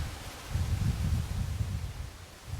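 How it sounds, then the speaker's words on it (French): Strong wind blowing outdoors buffets the microphone in a low, continuous rumble with gusty swells, steady throughout with no voices. "il y a beaucoup de vent aujourd'hui, j'espère que vous allez m'entendre"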